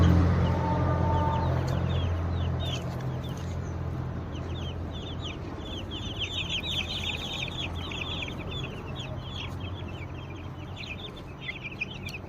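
A flock of country-breed chicks cheep and cluck steadily while pecking at their feed, with many small bright peeps layered over a constant low background hum throughout.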